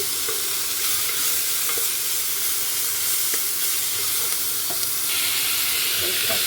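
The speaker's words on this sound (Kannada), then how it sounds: "ಎಲ್ಲ ಒಂದು ಸ್ವಲ್ಪ ಎಣ್ಣೆಯಲ್ಲಿ ಫ್ರೈ ಮಾಡ್ಕೊತಿದ್ದೀನಿ" Ginger, green chillies and tomato fry in a couple of spoons of oil with mustard seeds and cumin, making a dense, loud, close sizzle and steamy hiss that never lets up, with faint stirring taps and no speech.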